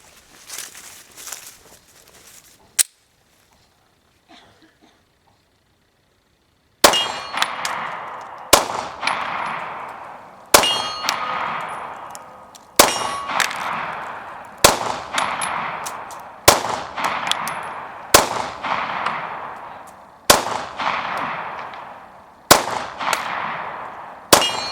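An FMK9C1 pistol fires 115-grain remanufactured ammunition, about eleven sharp, loud shots at a steady pace of roughly one per second, each ringing briefly after a quiet pause.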